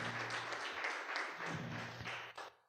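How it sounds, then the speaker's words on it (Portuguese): Church congregation applauding during a Portuguese-language worship service, a dense sustained wash of many hands clapping that gradually fades out toward the end. "Aplauda ao Senhor."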